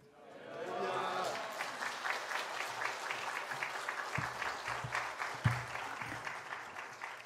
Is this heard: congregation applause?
yes